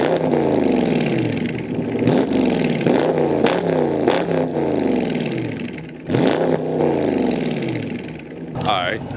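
A Dodge Challenger Hellcat with active exhaust set to track mode revs hard up close, giving repeated loud rising and falling blips with sharp pops between them and some clatter at the end.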